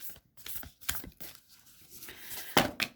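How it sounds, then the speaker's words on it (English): Close, crisp rustling and riffling bursts of stiff cards being shuffled, with a couple of sharper flutters near the end. "we will just give the cards a quick shuffle"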